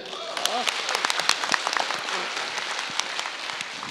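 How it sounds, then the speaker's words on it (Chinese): An audience at a Henan opera performance gives warm, dense applause, many hands clapping steadily and continuously from near and far in a large hall. "让我们再次以热烈的掌声表示感谢"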